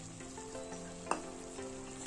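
Spices frying in oil for Hyderabadi chicken masala curry, a faint low sizzle in a pan with a single soft stirring knock partway through, heard alone and briefly.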